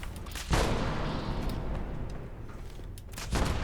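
Explosive arrow blasts from a compound bow in the video game Fallout 76, two heavy booming hits about three seconds apart with a dense rumbling tail between them, loud and close.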